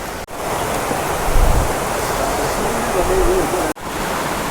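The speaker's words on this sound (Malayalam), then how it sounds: "നമ്മുടെ കണ്ണൂരിലുള്ള ഏറ്റവും മനോഹരമായ വെള്ളച്ചാട്ടം ഒരുപക്ഷെ ഏഴരക്കുണ്ട് വെള്ളച്ചാട്ടം എന്ന് തന്നെ പറയാം" Ezharakund waterfall in Kannur, Kerala, heard up close as a loud, steady rushing roar of falling water that fills the whole moment without letup.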